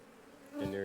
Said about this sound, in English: And I'll just shake the bees off.